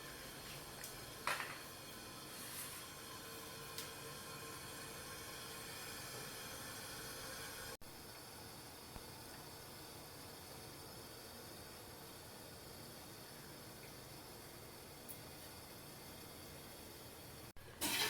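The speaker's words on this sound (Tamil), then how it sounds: "ஆவி வந்துடுது வெந்துட்டு இருக்குன்னு தான் நினைக்கிறேன்" Steam hisses steadily from an idli steamer pot cooking sago balls on the stove, a continuous broadband rush that runs the whole time with brief clicks and small shifts in level, and no talk over it.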